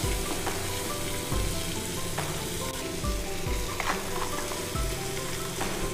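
Black chickpeas (sundal) fry in onion masala in a village kitchen, giving a steady, close sizzle with occasional stirring scrapes throughout, no voices.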